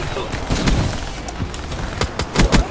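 Assault rifle gunfire in Call of Duty Black Ops 3, scattered bursts of sharp shots with quick repeated cracks near the end, loud and close, with someone talking over the shooting.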